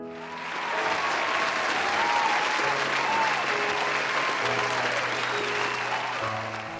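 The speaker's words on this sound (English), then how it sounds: "The crowd starts to cheer" A large crowd claps and cheers loudly, swelling quickly and holding a dense, sustained roar of applause before easing off.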